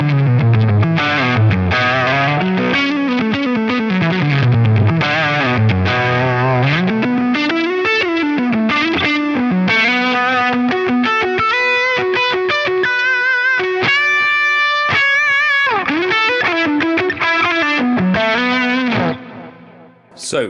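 Distorted electric guitar played through a Line 6 Pod Go preset with noise gate, chorus and echo; riffs, sliding chords and sustained notes ring loud and close, ending with a sudden choked cutoff.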